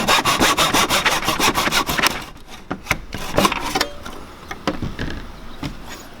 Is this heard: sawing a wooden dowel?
yes